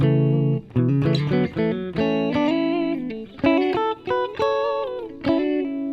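Electric guitar tone from a PRS SE Swamp Ash Special, middle pickup position combining two humbuckers, with a steady phrase of strummed chords and picked notes carrying several short pauses between sustained, full-bodied passages.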